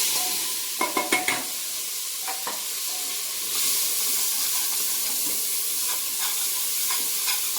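Chopped onion sautéing in oil with butter in a pan for pav bhaji, a steady soft sizzle under a few brief scrapes of stirring near the start, no talking.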